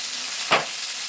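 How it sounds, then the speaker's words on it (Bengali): Boal fish pieces frying in hot oil: a constant bright sizzle with one short, louder spitting burst midway, close and loud, no voices. "বাকি যে মাছটা আছে মাছগুলো একই পদ্ধতিতে আমি ভেজে নেবো"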